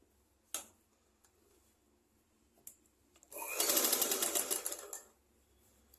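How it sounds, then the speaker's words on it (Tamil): A sewing machine stitches a fall along the edge of a saree: a few isolated clicks, then a close, rapid mechanical run of stitching for over a second before it stops. "ஓரத்துலேயே தூக்கி வச்சு அடிச்சுட்டு வாங்க."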